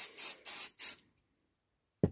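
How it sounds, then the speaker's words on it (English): 505 adhesive spray is sprayed onto quilt fabric in three quick hissing bursts close by, followed by a pause and a brief soft handling bump. "this 505 spray is very good. So what I'm going to do is just spray"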